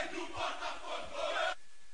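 A loud mass of Botafogo football supporters chants a song in a funk version, a dense roar of voices that cuts off abruptly near the end.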